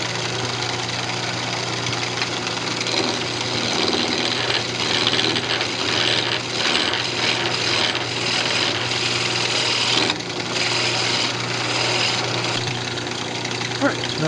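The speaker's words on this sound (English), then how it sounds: "Then just turn your lathe speed back up." A wood lathe spins up while turning a Christmas ornament, giving a steady, continuous motor hum with a faint whirring cutting texture throughout and no speech.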